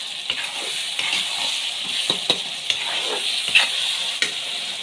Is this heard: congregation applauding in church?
no